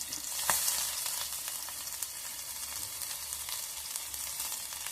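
Green chilli and ginger fry in a tempering of mustard seeds and cumin, giving a steady close hiss with scattered pops and crackles throughout.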